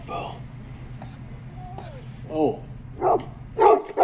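A dog barks in a film scene, giving three short barks that grow louder toward the end, after a quiet stretch with faint whimpering sounds and a narrating voice.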